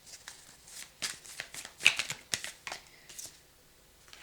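Tarot cards being shuffled for a reading, a run of quick papery riffles and soft slaps in uneven bursts, close and fairly quiet with no talking.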